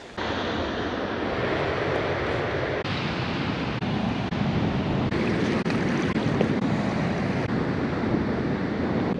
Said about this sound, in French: Là ça descend et on entend l'océan.